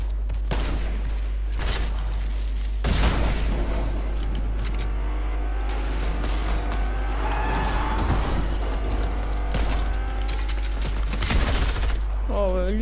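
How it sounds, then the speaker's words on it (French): Gunfire in the Fortnite video game, with repeated bursts of shots and sharp cracks spread across the stretch over a constant low hum, interleaved with mechanical clatter. "C'est qui me tire dessus"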